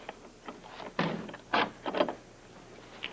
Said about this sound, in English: Would you open this door for me, please?